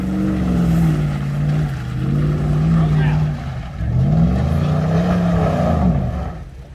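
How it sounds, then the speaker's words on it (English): Toyota FJ Cruiser with a bad spark plug and an exhaust leak ploughing through deep water, its engine droning loud and close in long surging waves with a wash of splashing, briefly easing before pulling hard again. "It's got a bad spark plug and an exhaust leak."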